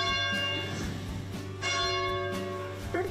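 Church bell at the Church of the Wayfarer in Carmel rings with sustained, layered tones that hang and overlap for the whole stretch, moderately loud and close, with no talking over it.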